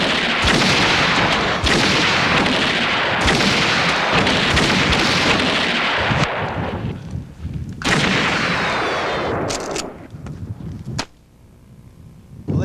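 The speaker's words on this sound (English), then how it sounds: "shooting, ladies and gentlemen" Gunshots ring out at the 1994 Burning Man festival, a dense series of loud, sharp reports with booming tails that crowd together and then thin to a few last cracks.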